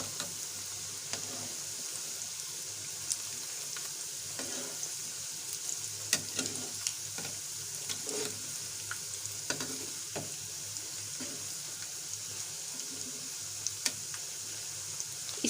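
Homemade crispy chicken nuggets fry in a pan with a steady, close sizzle, punctuated by scattered crackles and clicks from turning or stirring; no voices.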